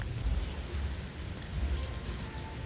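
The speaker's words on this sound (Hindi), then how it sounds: "अभी बारिश स्लो हो गई है, जैसे मैंने बताया ना स्लो हो जाती है फिर तेज हो जाती है" Steady light rain patters on surfaces outdoors on a school's last day, a soft continuous hiss of drops with small swells in intensity and no voices.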